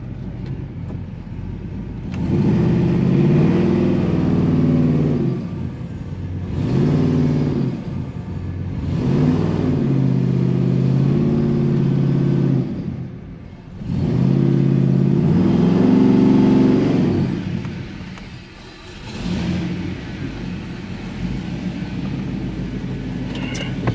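A 1996 Chevrolet Impala SS with an LS engine swap and a failing, powerless transmission drives along, its engine droning and surging in repeated swells of revving, loud and close throughout.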